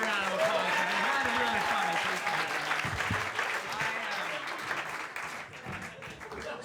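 Full audience applause at a stand-up comedy special, thick and continuous with crowd noise and faint voices mixed in, tapering slightly toward the end.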